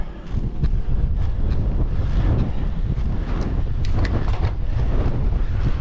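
A strong headwind buffets the microphone of a cyclist riding up a steepening road. It makes a loud, continuous low roar and rumble with gusty fluctuations, and no one speaks.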